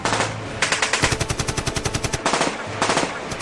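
A machine gun fires rapid bursts from a hilltop position during a battle, the loud, closely spaced rounds rattling in two long strings with a short gap between them.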